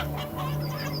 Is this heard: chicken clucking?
yes